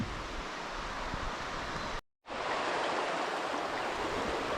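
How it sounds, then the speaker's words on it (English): Water of a creek in a gorge rushes steadily, a broad continuous wash that drops out briefly for a moment before resuming just as loud and close. "Quite a bit of water in the creek down there at the moment."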